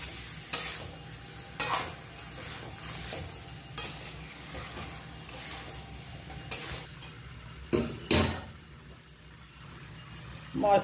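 A spoon stirs jackfruit and chicken with spices in a frying pan, making repeated scraping strokes at irregular intervals over a low, quiet sizzle.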